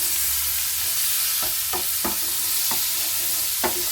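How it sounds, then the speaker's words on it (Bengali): Spice masala and a small tomato are stirred in a hot pan for a Bengali bele fish dish, several scraping strokes over a continuous frying sizzle, close and fairly loud, with no voices. "টমেটোটার সাথে মশলাটা খুব ভালোভাবে মিশিয়ে নিতে হবে।"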